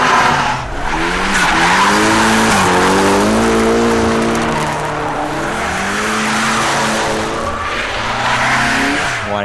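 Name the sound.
drifting Nissan 240SX tires skidding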